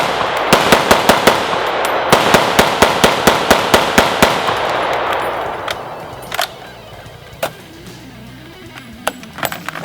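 A Century C308 rifle fires full-powered .308 NATO rounds in a fast string of loud, sharp reports, then slows to scattered single shots from other guns further off.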